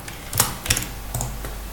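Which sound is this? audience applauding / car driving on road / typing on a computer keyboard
typing on a computer keyboard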